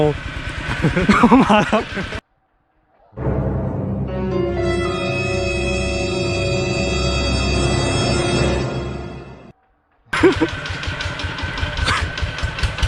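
Ducati V4 motorcycle engine revs hard for about six seconds, loud and close, a sustained roar with the pitch climbing, set between stretches of someone talking.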